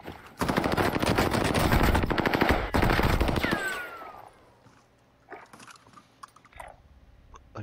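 Gunfire in the video game Warzone, a loud sustained automatic burst that stops, then quieter scattered shots and game sounds follow, with no talk.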